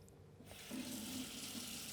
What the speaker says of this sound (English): then rinse it off with water